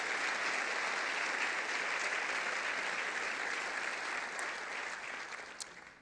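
An audience at the 2019 Columbus State of the City address applauds the Sports Commission and Experience Columbus, loud sustained clapping filling the hall and tapering slightly near the end.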